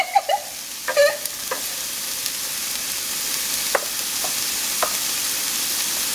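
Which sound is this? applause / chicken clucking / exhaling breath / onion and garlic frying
onion and garlic frying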